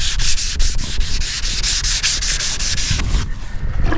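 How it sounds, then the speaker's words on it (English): A Scotch-Brite pad scrubs wrinkled spray paint on a car body at close range, a loud, steady abrasive rasp in quick repeated strokes that ease off near the end. "You could probably use a red Scotch-Brite."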